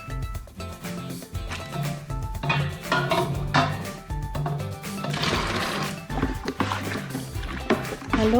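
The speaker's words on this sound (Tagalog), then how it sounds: "Haluin natin hanggang sa matunaw ang ating borax and washing soda." Repeated clinking and scraping of a spoon stirring borax and washing soda dissolving in a pot of boiling water, a steady busy clatter close by with no talk.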